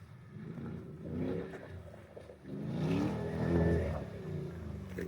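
Mercedes G-Wagon with a naturally aspirated 5.5-liter engine and MBRP exhaust revving through two deep, rising surges, the second longer and louder, heard from nearby off-road.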